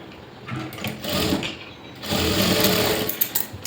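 Sewing machine stitching a cross piece for a blouse, two short bursts of rapid mechanical whirring with clicks between them, close and clear with no talking.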